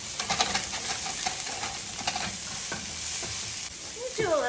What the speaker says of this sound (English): Just saute it up.